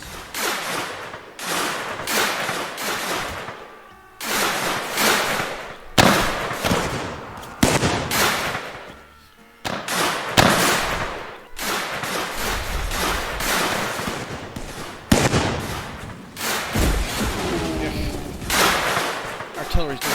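Artillery and cannon fire booms through a Mount & Blade: Warband Civil War mod battle, repeated heavy blasts at irregular intervals amid constant gunfire crackle, with someone talking over it.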